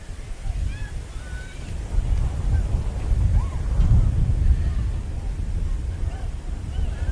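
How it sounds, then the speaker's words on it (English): Steady wind rumbles and buffets the microphone beside an outdoor primary school football field, a continuous low roar that swells and gusts throughout with no clear speech over it. "It's certainly getting very windy here at the moment"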